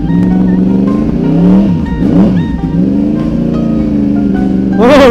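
A Yamaha R1 sport motorcycle engine revs loud and close, with rising and falling pitch sweeps over a steady throaty idle and a sharp high burst at the end, with no talk.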